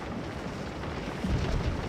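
Heavy cannon artillery in the Civil War game Scourge of War rumbles as a dense, continuous roar of distant booms, swelling slightly near the end, with no talking.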